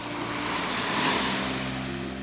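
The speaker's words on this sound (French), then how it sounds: "Je te propose de te laisser emporter par ces vagues" Ocean waves wash in a steady, broad rush with a low rumbling swell, loud and close with some wind noise and no talk.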